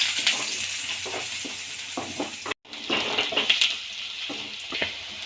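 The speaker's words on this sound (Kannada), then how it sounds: "ಒಂದು ಸ್ವಲ್ಪ ಗೋಲ್ಡನ್ ಬ್ರೌನ್ ಆಗೋವರೆಗೂ ಹುರ್ಕೊಳ್ಳಿ." Chopped onion frying with cumin in hot oil, cooking to golden brown: a steady close sizzle with scraping stir strokes and a brief break midway.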